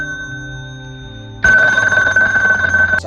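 A home telephone starts ringing suddenly partway through, a loud, steady electronic ring that lasts to the end and follows a quieter stretch of low sustained tones.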